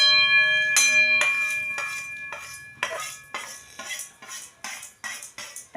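Metal spoon scraping and clinking against a wok while vermicelli is stirred for a sweet milk pudding, with a series of sharp, ringing metallic strikes at an uneven rhythm, close up and with no talking.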